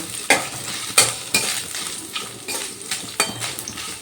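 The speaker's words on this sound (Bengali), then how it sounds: "এবার ওই তেলের মধ্যে দিয়ে দিচ্ছি কুচি করে কেটে রাখা নারকেল এবার আমি নারকেলগুলো একটু ভালো করে ভেজে নেব" Grated coconut sizzling in hot oil in a pan, a steady frying hiss broken by a handful of sharp scraping stirs at irregular intervals, close and moderately loud with no talking.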